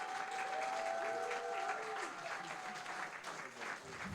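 Audience at a health and society event in Montreal applauding presenters after the final presentation, steady dense clapping at moderate level for the whole stretch, with a faint whistle-like tone early on.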